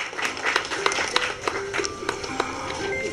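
Audience clapping at a retirement felicitation ceremony of the Chennai Port Authority, greeting an official; scattered hand claps ring out steadily over a low murmur for about three seconds.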